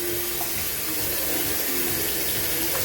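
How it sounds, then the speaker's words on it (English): Tap water runs steadily into a sink as rice is rinsed at home, a continuous close splashing stream with no talking. "and then you wash it a second time, you get a clear water"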